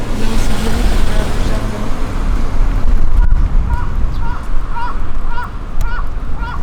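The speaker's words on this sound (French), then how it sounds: "Ok, c'est un oiseau." A bird calls repeatedly in a garden in Okayama, Japan, giving a series of short, rising, honk-like notes at a steady rhythm, fairly close, over a constant rumble of nearby road traffic.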